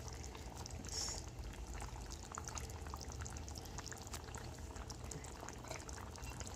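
Egg curry bubbling at a boil in a pot, a soft continuous simmering hiss with faint bubbling, close and quiet with no voices.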